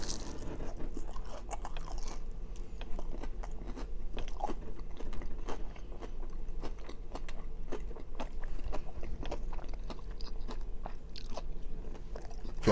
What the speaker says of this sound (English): it seems like it's like endless chewing